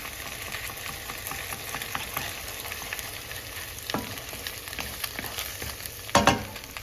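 Egg scrambles in a hot pan beside pushed-aside rice noodles for pad see ew, with a steady close sizzle, light scraping stirs and a louder clatter of the utensil near the end.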